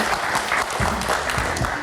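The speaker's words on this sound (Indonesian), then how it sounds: "Tepuk tangan sekali lagi dong." A studio audience claps loudly and continuously in a dense, close round of applause, with a few low thumps mixed in.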